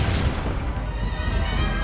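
A Bombarda blasting spell explodes in the Hogwarts Legacy video game, a loud, close rumbling blast with crashing debris that fills the whole short moment.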